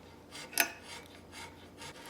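A hand file rasps across the metal surfaces of a handmade sci-fi knife in slow repeated strokes, close and fairly quiet, with one sharper scrape standing out.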